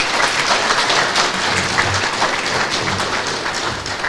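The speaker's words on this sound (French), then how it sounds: "On peut les applaudir avec" An audience at a memorial ceremony claps together in dense, steady applause that fills the room evenly for a few seconds, close and loud with no voices standing out.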